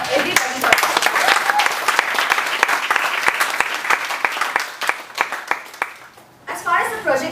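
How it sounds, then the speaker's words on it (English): An audience at a Toastmasters-style meeting claps in a loud round of applause with sharp individual claps, easing off near the end as a voice begins speaking. "So a huge round of applause for everybody for it"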